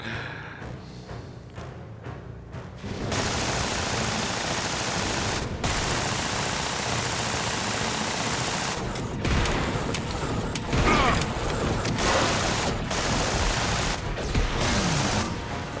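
Gunfire in the tower defense video game Fortified: sparse shots at first, then a dense, continuous barrage of rapid fire that keeps going to the end.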